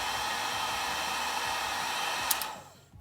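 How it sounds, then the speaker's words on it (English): Steady broadband rush of a heat gun blowing hot air onto a black wire during an LED reverse light install, continuous and close, cutting off near the end. "put the heat gun on low. Give it a second to heat up. Maybe even switch it to high."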